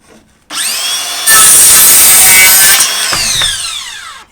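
A circular saw making a 45-degree cut in wood, the motor whining up, then a loud close buzzing cut through the board, followed by the blade spinning down with a falling pitch.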